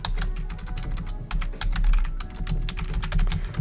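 Fingers type on a computer keyboard, a quick uneven run of clicking keystrokes, close and clear over a low background hum, with no talking.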